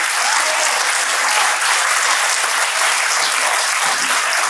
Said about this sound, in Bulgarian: Още веднъж на кръга аплодисменти за големия победител на Кейкарт България 2023 година Елисавета Никова